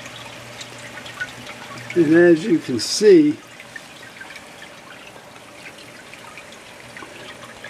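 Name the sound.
water spraying from cloning machine sprayers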